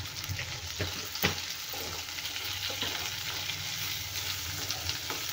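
Eggplant fries in hot oil with turmeric and salt in a pan, giving a continuous close sizzle with scattered pops and stirring clicks, no one speaking.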